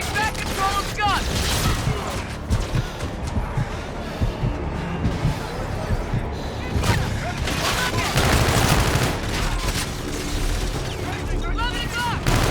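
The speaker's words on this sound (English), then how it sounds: "Sir, they're firing on us." Dense gunfire from the Call of Duty: Infinite Warfare campaign, with rapid automatic bursts, explosions and mechanical clatter running nonstop and loud, while shouted voices break through the battle.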